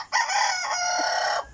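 A rooster crows once in a backyard flock, a loud, sustained call lasting over a second and cutting off cleanly, with no talk over it.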